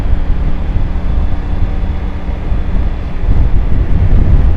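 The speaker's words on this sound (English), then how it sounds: "you might have heard how windy that is. It's quite a blast." Rough, gusting wind blasts against a microphone on a motorcycle helmet with vent and visor open while riding, a constant low rumble that swells louder toward the end, with no speech.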